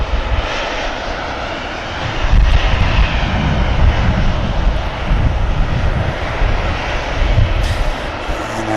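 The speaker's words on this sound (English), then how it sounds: "small aircraft just passing over Dursbury and whatnot on the departure path" A small fixed-wing aircraft passes overhead on an airport departure path, its engine drone steady and fairly loud with broadband roar swelling slightly midway, mixed with some wind noise and no talking.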